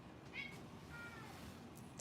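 A pet cat meows softly a few times indoors, faint and somewhat distant against a low room hum.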